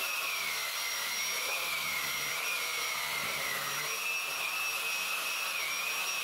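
A vacuum cleaner with its rotating brush switched on sucks sawdust off a floor, giving a loud, steady whine with a wavering high tone that holds for several seconds, alone without talk.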